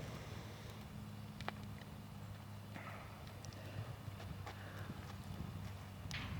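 Horse hooves stepping on the ground during groundwork with a horse named Rooster, soft irregular footfalls close by over a steady low background hum, with a few sharper knocks.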